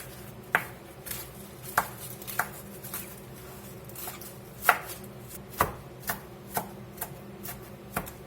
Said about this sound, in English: Get this kale busted up here a bit.